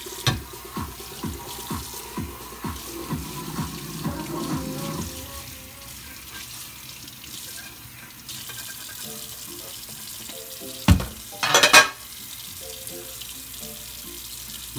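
Dishes being washed up under a running kitchen tap. A steady gush of water carries soft clinks and scrubbing, then quieter handling follows, ending with a brief loud splash or clatter.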